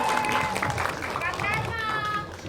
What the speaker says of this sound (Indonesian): kita berikan tepuk tangan yang paling meriah dong untuk seluruh dari Hati Suwita